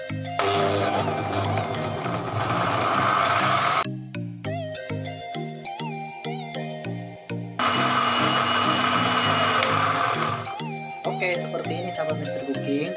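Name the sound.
blender grinding sambal chili paste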